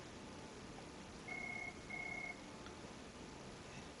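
A telephone rings in a university calculus classroom: two short electronic tones, steady and moderately loud, over a constant hum of room noise.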